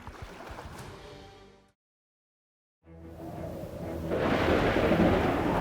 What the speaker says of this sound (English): causing a violent storm that threatened to sink the ship